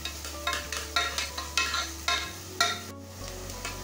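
Sliced onion sautéing in a pan until translucent for a cauliflower and mutton curry, with a soft steady sizzle broken by regular scraping stirs of a spoon, close and fairly quiet, no talking.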